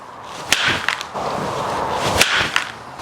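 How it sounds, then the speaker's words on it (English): Quick whooshing golf swing trainer swings, each ending in a sharp snapping click as the sliding cartridge strikes its stopper, two or three in a few seconds, close and crisp. "we want to hear that audio of the cartridge hitting the stopper"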